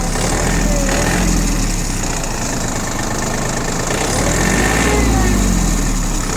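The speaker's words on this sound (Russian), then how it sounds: "Видим, что очень и очень хорошо работает двигатель." Idling diesel engine of a Yanmar RS30 Japanese mini tractor, a steady close chugging rumble that holds at an even level throughout, with a faint voice talking over it at times.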